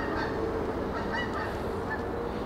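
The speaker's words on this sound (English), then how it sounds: "And of course the ducks come" Several ducks honk and quack in a steady outdoor chorus, fairly loud and continuous, with no voices.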